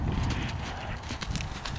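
A horse's hooves clip-clop over ground in a steady walking rhythm during pole work, close and fairly distinct beneath a broad rumble of outdoor noise.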